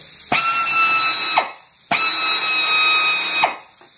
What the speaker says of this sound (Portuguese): Quando você for começar um corte, sempre é necessário que você faça um furo nesse rumo aqui